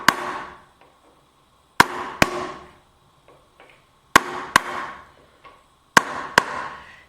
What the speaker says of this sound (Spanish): vamos a ir dando en los distintos dientes con cuidado.